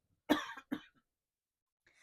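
Two quick coughs from one person, close and clear, followed by silence and a faint breath or murmur.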